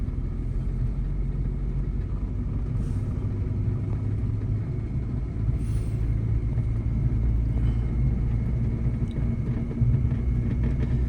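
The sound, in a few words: car driving in second gear during a driving lesson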